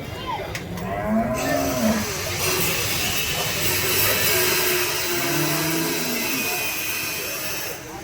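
A native cow lows repeatedly at a busy livestock market in Vaniyambadi, long drawn moos rising and falling close by over a steady hiss of crowd and market noise, with occasional voices in the background.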